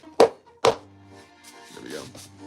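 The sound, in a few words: banging cardboard down to make it stay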